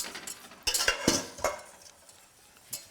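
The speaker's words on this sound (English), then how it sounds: "And now you're going to go ahead and stir again." A utensil stirs vanilla sauce in a pan with a few soft scraping strokes and light clinks against the metal, close and fairly quiet, with no talking.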